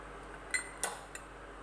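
A metal spoon clinks three times against a pot or dish while turmeric and coriander powder are added to a dhaba-style methi masala curry, faint sharp taps over a quiet kitchen background.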